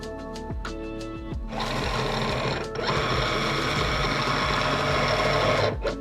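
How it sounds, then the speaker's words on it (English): A SINGER momento cutting machine loads its cutting mat: a short series of clicks and motor pulses, then a steady loud mechanical whir that runs with one brief dip before ending in a final click, with no voices. "the machine will load the mat and stop with the head at the upper left-hand corner."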